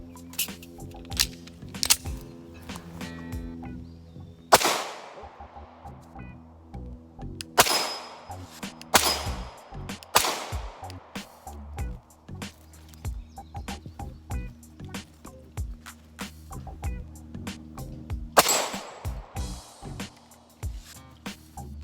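A Canik TP9 Elite SC pistol fires one-handed from 15 yards at a steel target, giving loud sharp reports with metallic pings, some shots in quick pairs and others spaced apart, ringing through an outdoor range.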